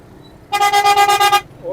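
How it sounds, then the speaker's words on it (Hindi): A loud, blaring, newly fitted car horn honks in a rapid series of short bursts for about a second, close by, on a highway. "हॉर्न नया लगवाया है भाई ने।"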